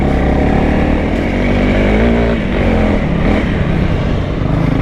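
A 2025 Honda CRF300L trail bike roars loudly and close while ridden off-road through enduro ruts, its engine note rising and dipping steadily without a break.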